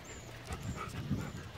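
An Airedale Terrier panting softly in short, quiet breaths, close by, with faint background noise and no talking.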